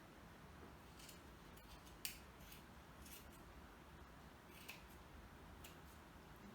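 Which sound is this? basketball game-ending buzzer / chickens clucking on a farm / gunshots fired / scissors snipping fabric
scissors snipping fabric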